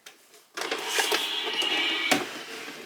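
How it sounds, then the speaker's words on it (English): A domestic sewing machine running a straight single stitch while a basic dress is sewn, starting abruptly and whirring steadily and close for a couple of seconds, with a brief clunk near the end. "we're going to run along with the sewing machine doing a single stitch"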